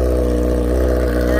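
A 2013 Honda Hornet motorcycle with about 6,000 km runs its engine loud and close through the exhaust, a steady rumbling drone with rich harmonics held for the whole moment while a voice talks over it.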